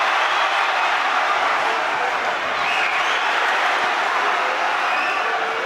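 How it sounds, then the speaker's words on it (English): A packed boxing arena crowd claps and roars continuously before a fight, a thick, steady wash of applause with no break. "Every time he's been shown on the screen, the crowd's applauded."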